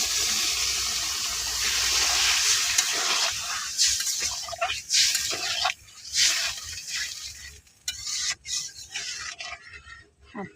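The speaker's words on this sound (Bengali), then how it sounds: "এখন আমি জলটা দিয়ে নিতেছি" Water is poured and splashed into a cooking pot for dal in a home kitchen, a loud rushing pour at first that breaks into irregular splashes and scrapes before stopping.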